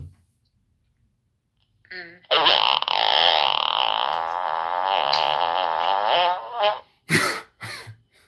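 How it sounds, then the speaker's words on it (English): Fart sound effect from an AI button add-on, one long buzzing, wavering blast lasting about four seconds after a short lead-in squeak, followed by a few brief sharp clicks, loud and close. "This is a fart button."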